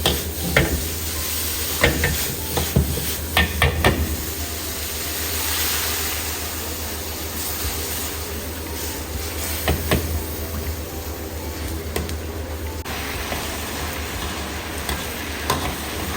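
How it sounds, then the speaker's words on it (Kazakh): Tteokbokki rice cakes are stir-fried in sauce in a pan, making a continuous sizzle and hiss, with intermittent scraping and clacking of the stirring utensil against the pan, loud and close. "соусты дайындап алғаннан кейін оның үстіне жаңағы сүзіп алған заттарымызды салып, бірге араластырып қуырамыз"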